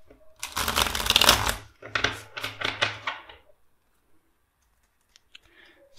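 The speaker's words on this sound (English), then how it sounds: "And one more shuffle for you Pisces." Tarot cards are shuffled briskly up close, a long riffle followed by several shorter bursts, then quiet with a few faint taps.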